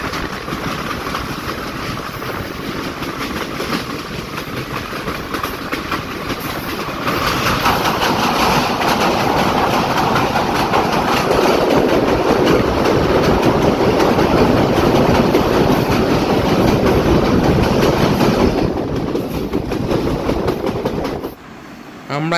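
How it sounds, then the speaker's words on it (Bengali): The Chitra Express rumbles across the old red Alamdanga railway bridge, a loud continuous roar of wheels and carriages heard from on board that swells as the bridge crossing begins. "এবার আমরা এখন বাংলাদেশের সর্বপ্রথম রেলওয়ে সেতু অর্থাৎ আলমডাঙ্গা লাল ব্রিজ অতিক্রম করতে যাচ্ছি।"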